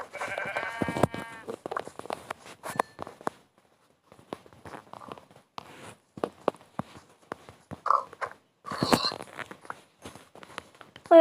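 Sheep in the Minecraft video game bleat several times at moderate volume, the calls scattered over soft footsteps and game clicks, with no talk.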